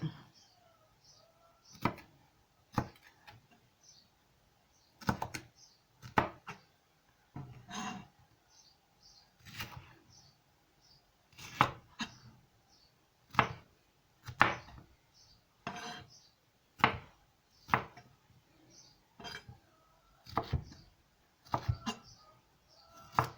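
A knife cuts bell peppers into pieces for vegetable skewers, landing as a string of sharp, separate thuds on a board at an uneven, unhurried pace, close but fairly soft, with near silence between strokes.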